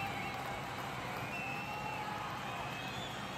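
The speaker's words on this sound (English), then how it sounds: "listen to this crowd getting loud, trying to force the OU defense into making a mistake here" Stadium crowd noise from a college football video game with Oklahoma playing at Washington, a steady dense roar of cheering and babble held at a constant loud level throughout.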